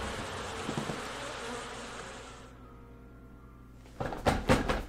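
Killer bees buzzing in the horror video game Goosebumps: Dead of Night, a dense droning buzz that fades out midway, then sharp rattling knocks arrive near the end.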